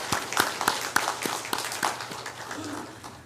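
A church congregation at a Sunday service claps for the choir, crisp hand claps falling in a loose, roughly regular rhythm that grows quieter toward the end.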